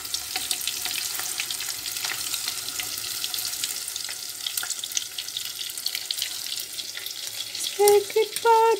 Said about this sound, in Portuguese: deixa eu terminar essa fritura aqui.